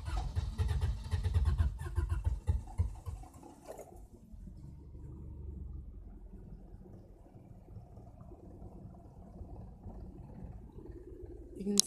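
A car engine idles roughly after new fuel filter, spark plugs and battery terminals, a low uneven rumble heard close, louder at first and then settling into a quieter steady run.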